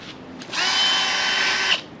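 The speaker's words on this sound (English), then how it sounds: "I'm just pre-drilling the holes" A power drill bores pilot holes into cheap pine boards while a truck bed slide is built, giving one steady, loud high-pitched whir of about a second and a quarter that cuts off abruptly.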